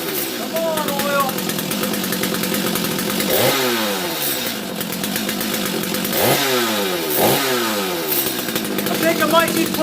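A Stihl MS250 chainsaw runs for the first time in fifteen years, its two-stroke engine loud and close, idling roughly with several sharp revving bursts.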